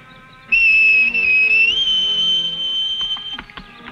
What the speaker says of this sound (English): You sure you can whistle like that, kid?